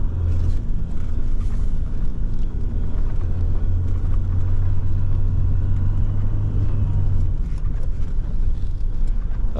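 A Jeep climbs a snowy switchback during a winter storm, its engine giving a loud, continuous low rumble with a steady drone throughout and faint scraping and crunching noises on top.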